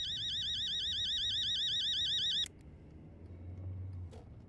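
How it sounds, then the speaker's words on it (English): A fire alarm rings inside the video game Fears to Fathom: a loud, steady warbling electronic tone that pulses rapidly for a couple of seconds, then cuts off abruptly, leaving quiet room ambience. "The heck is that, a fire alarm?"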